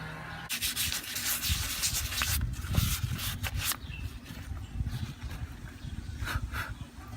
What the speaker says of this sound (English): Now I'm not gonna video me sanding it and sanding and sanding.